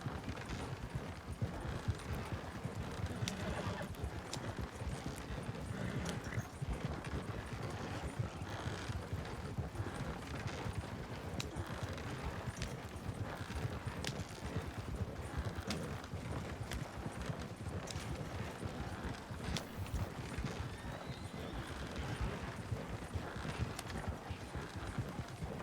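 Steady clip-clop of horse hooves pulling a wagon in a RedM Wild West roleplay game, a continuous trotting rhythm with rolling wagon rumble, moderately loud and unbroken the whole way through.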